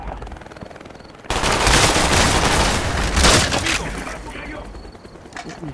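Sustained automatic gunfire on a video game firing range breaks out suddenly into loud rapid bursts with booming impacts, then thins to scattered shots, loud and dense.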